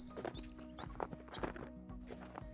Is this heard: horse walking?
yes